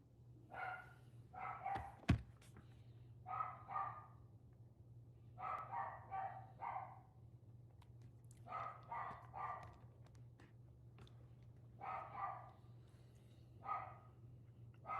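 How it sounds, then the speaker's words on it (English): A dog barks excitedly in another room, muffled and somewhat distant, in repeated clusters of yips and barks across the whole stretch over a steady low hum. "My dog sounds very excited in the other room."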